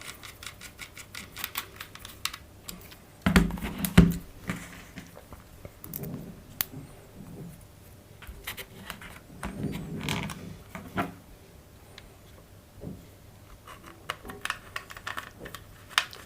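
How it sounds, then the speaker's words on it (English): Screws being driven into an ICEpower1200 amplifier board during assembly give intermittent small clicks, creaks and ratcheting scrapes. The sounds come in short clusters, quiet and close, with no talking. "you should first screw 2 screws"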